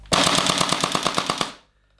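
An Acetech Quark R electric airsoft shotgun firing on full auto, a rapid loud burst of about a dozen sharp evenly spaced shots lasting roughly a second and a half, then quiet.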